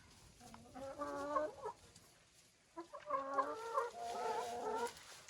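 Chickens cluck in two bursts of busy, overlapping calls, with a short lull between them, close by against a faint outdoor background.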